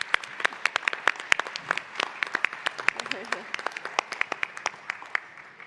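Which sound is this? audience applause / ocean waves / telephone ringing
audience applause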